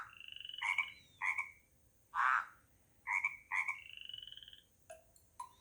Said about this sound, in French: Il fait croua, croua. Oui, le crapaud coasse.